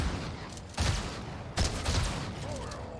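Rapid SMG gunfire bursts in a shooter video game, two loud broadband volleys over a steady noisy background of continuous in-game action.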